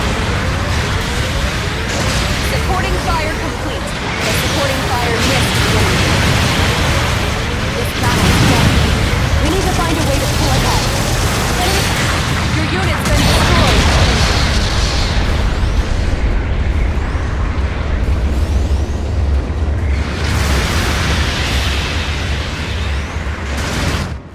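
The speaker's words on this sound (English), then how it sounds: "Long-range supporting fire incoming." Long-range supporting-fire explosions in Gundam Battle Operation 2 rumble through one another in a dense, loud barrage of booms and bursts that runs without letup, with game voice lines heard now and then over the blasts.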